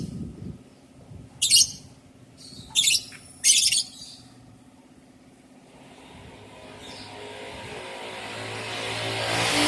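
Three lovebirds in a cage let out three short, sharp chirps in quick succession, then fall quiet while a faint engine hum rises in the background toward the end.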